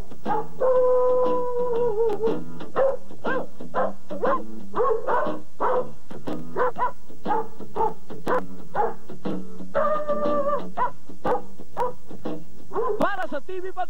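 Dogs barking, yipping and whimpering in a sing-along style for a Christmas news feature, a busy run of close, overlapping yelps and howl-like tones with music behind.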